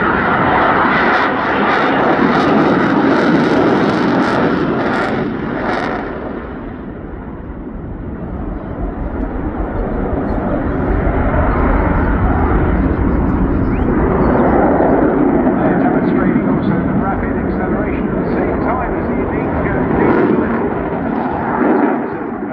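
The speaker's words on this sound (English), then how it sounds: "Shortly kicking those burners again and power on." Jet aircraft engine with afterburners roaring at the Bournemouth air show, a loud continuous blast that swells, dips briefly near the six-second mark, then builds again and holds strong to the end.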